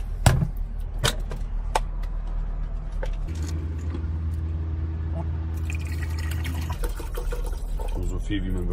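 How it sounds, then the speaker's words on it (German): Water pours steadily into the water tank of a coffee machine inside a camper van, a continuous filling trickle lasting several seconds, preceded by a few sharp knocks and handling clicks. "So, dann einmal den Wasserbehälter von der Kaffeemaschine. Da kommt dann einmal Wasser rein."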